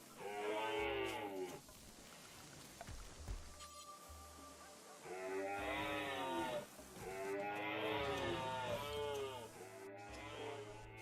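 Cattle in the RimWorld game moo in long, drawn-out calls, three loud moos with quieter pauses between them.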